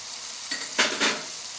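Potatoes dropped into hot oil in a pan with cinnamon, cardamom and dried chilli for a Bengali banana-flower curry, giving a soft hiss that swells into two louder sizzling bursts before settling.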